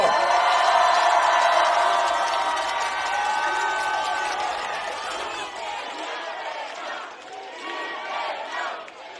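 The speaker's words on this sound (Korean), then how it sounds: "이재명 대표에게 다시 한번 뜨거운 박수와 환호를 부탁드립니다." A large crowd at an outdoor political campaign rally in Yongsan, Seoul, bursts into loud, sustained applause and cheering that slowly tapers off.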